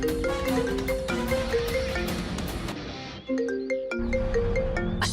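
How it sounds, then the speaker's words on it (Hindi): A phone ringtone plays a bright, repeating electronic melody of clear chiming notes, loud and close, pausing briefly before the tune starts up again, with no talking over it. "अश्विनी का फोन।"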